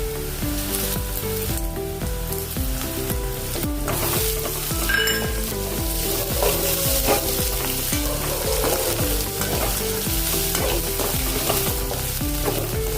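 Onions and ginger-garlic paste fry in a pan for a brinjal and tomato curry, giving a loud, continuous sizzle with occasional clinks of a spoon stirring.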